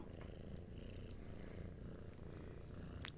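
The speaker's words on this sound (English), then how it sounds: "You can probably hear her purring." Hattie, a rescue cat, purrs softly and continuously close to the microphone, a low steady rumble with no speech over it.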